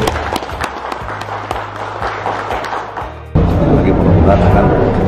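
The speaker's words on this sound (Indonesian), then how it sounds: "Tepuk tangan dulu tentu." Applause at a bank and water utility memorandum signing ceremony, irregular claps and thumps at first, then a louder, denser burst of clapping from the gathered crowd.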